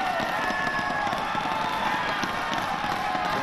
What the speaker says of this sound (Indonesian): Silakan tepuk tangan para pendukung.